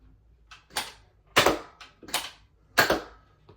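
A Nerf Elite 2.0 Trio blaster fires its barrels in a series of sharp, close pops, each with a short mechanical click and thump, spaced about half a second apart.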